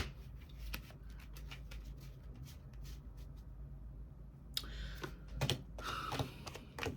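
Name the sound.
shuffling tarot cards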